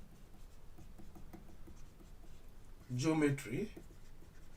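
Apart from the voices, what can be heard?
writing an equation by hand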